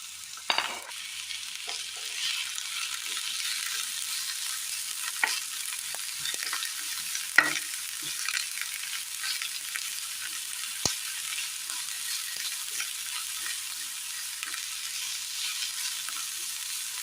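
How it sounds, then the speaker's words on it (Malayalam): Chopped onion and green chilli frying in hot oil give a steady close sizzle, with occasional clinks and scrapes of a stirring spoon and no voices. "എണ്ണയിലേക്ക് അരിഞ്ഞു വെച്ചിരിക്കുന്ന സബോള ചേർത്ത് കൊടുക്കുക പച്ചമുളക്"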